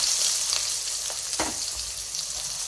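Cinnamon, cloves, ginger, garlic, onion and green chilli sauté in hot oil, making a steady close sizzle with one brief scrape of a stirring spoon partway through.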